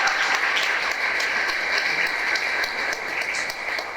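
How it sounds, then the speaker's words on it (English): Steady applause from an audience at a city smart cities roadmap launch event, a dense even wash of clapping that holds at a constant level throughout. "How about a round of applause for the great team at the city?"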